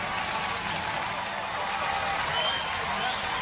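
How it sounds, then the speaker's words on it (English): Generous applause from an audience at a robot fighting competition, a steady broadband wash of clapping that holds evenly for a few seconds at moderate distance, with no clear voices over it. "Generous applause."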